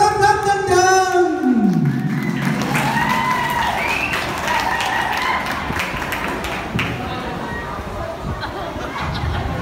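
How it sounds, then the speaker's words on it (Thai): Audience applause and crowd chatter welcome a performer at an outdoor stage show, with a short voice tone at the start before dense, steady clapping at moderate distance. "ขอเสียงปรบมือต้อนรับกันยัง"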